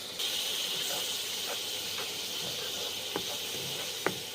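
Water used to wash spices hisses and sizzles in a hot wok (kadai) with mustard-poppy paste for a rohu fish curry, a steady bright frying hiss with a few soft pops, close and continuous.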